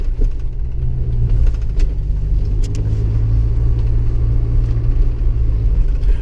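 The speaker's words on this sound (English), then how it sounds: "There's a car behind us." A car trails behind a moving Jeep Wrangler SE with an inline-four engine, heard as a steady low road rumble and engine drone that holds at an even level throughout, with no voices.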